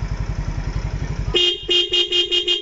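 A Yamaha Mio Soul motorcycle idles with a low putter, then its horn beeps about four times in short, bright, evenly spaced honks.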